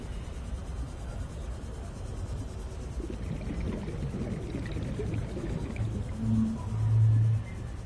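A sea monkey creature in the underwater game Subnautica Below Zero calls with low, swelling tones over a murky ambient wash of water, rising louder near the end.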